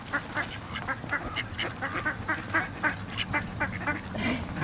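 A swan gives repeated short, nasal honking calls in an irregular series, fairly near, over a rough outdoor park background.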